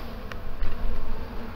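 Dense, close buzzing of many honey bees from a large hive being removed, a continuous low hum with a couple of faint clicks.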